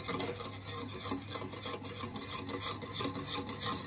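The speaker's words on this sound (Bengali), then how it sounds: "আর সমানে নাড়াতে হবে কারণ কর্নফ্লাওয়ার আছে, একটু দিয়ে লেগে যাবে।" Cornflour ice-cream mixture being stirred steadily in a pan on the stove, a continuous close scraping and rubbing of spoon against the pan bottom, with no voices.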